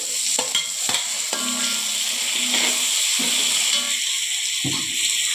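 Onions and tomatoes sautéing in a pan, a steady close hiss and sizzle with intermittent stirring scrapes and soft clatters of the spoon, no talking.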